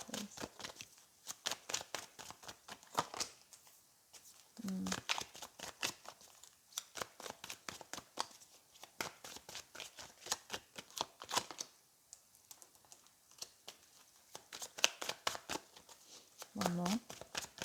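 Tarot cards being shuffled and drawn in a card reading, rapid crisp riffling and flicking in repeated bursts with a few soft card slaps, close and fairly quiet, with a voice talking intermittently over them.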